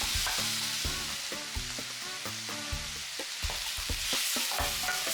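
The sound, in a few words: fresh tomatoes sautéing in a pan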